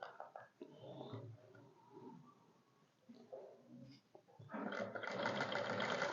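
A sewing machine stitches fabric up close, its motor whirring in stretches of varying speed and growing louder and steadier toward the end.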